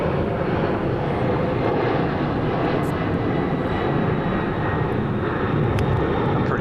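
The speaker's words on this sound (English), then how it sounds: "I'm pretty sure she didn't even hear that jet." A jet aircraft passes over a golf course during a women's professional tournament round in Portland, a steady, broad rumbling roar at moderate distance that holds without a break, with no talk over it.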